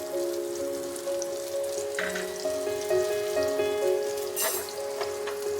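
Chopped medium onions frying in hot oil in a pan, a steady close sizzle with crackling pops throughout and no talk.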